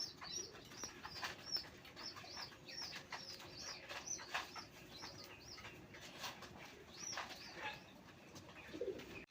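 Native Bombai pigeons offered for sale coo softly in a repeated, rhythmic series, with occasional faint chirps and a brief wing flutter, and no voices.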